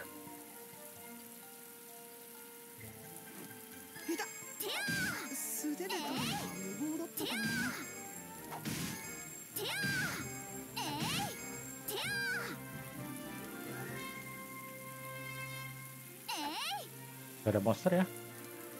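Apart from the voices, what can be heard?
rain falling in Atelier Ryza 2 video game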